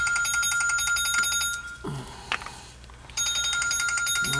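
A telephone rings in bursts of bright electronic trilling, pausing mid-clip before ringing again, heard in a workroom during repair of a hydro-air heating system's faulty fan.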